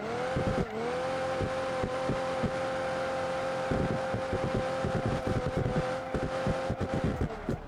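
A diesel car engine in the BeamNG driving game drones with a steady throbbing hum, its pitch holding fairly even while quick pulsing knocks and revs flicker through it, close and continuous with no talking.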